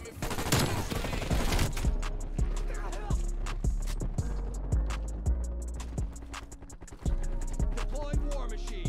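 Vargo 52 assault rifle bursts in Call of Duty Cold War gameplay: loud, close rapid shots in repeated short volleys, with game sounds between them.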